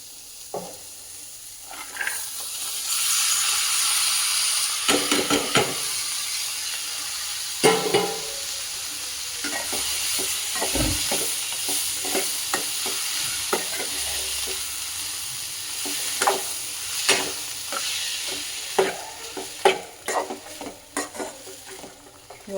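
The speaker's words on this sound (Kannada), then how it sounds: "ಸ್ವಲ್ಪ ಕಾಳು ಬಂದು ಉಪ್ಪಿಡಿಬೇಕು ಸೊ ಅಲ್ಲಿ ತನಕ ನಾವು ಈ ಥರ ಸ್ಟೇರ್ ಮಾಡ್ಕೋಬೇಕು" Black-eyed peas stirred in a frying pan for alasande upsaaru, a steady sizzle with repeated scraping and clattering strokes of the spoon, close and fairly loud, with no talking.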